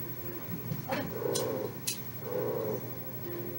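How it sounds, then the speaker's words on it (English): A pet animal growls in two drawn-out low rumbles, with a few faint clicks between them. The sound is close but quiet. "It's growling."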